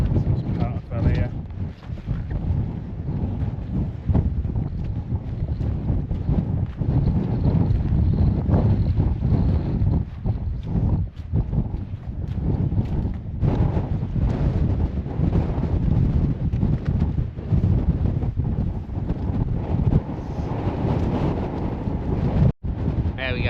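Wind buffets the microphone steadily along an exposed hillside walk on a wet, windy day in the Kentmere fells, a loud continuous roar with gusty swells and a voice speaking briefly over it.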